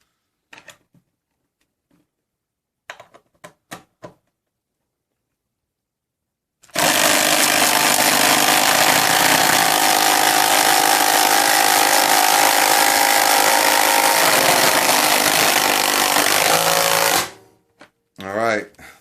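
Milwaukee 2462 and Bosch PS41 12-volt impact drivers drive fasteners side by side. After a few clicks, a loud, dense, continuous rattling whir runs for about ten seconds, then stops abruptly, followed by brief knocks.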